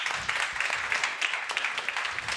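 A university panel audience gives a short burst of warm applause, steady overlapping clapping at moderate loudness throughout.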